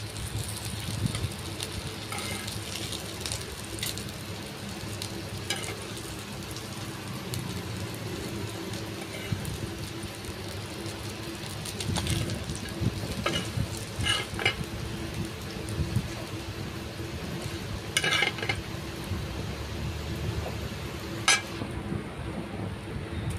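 Bombil fish coated in a gram flour and semolina mix sizzling in hot oil, a steady close crackle and hiss running through with scattered sharper pops, no voices over it.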